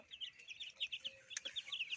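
Many chicks and goslings peeping in high, rapid chirps, a busy overlapping chatter of young fowl close by, with one brief sharper call partway through.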